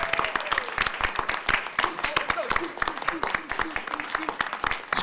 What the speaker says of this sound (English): You got to clap till they get the stage